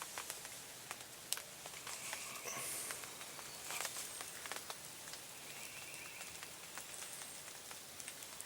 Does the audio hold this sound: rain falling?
yes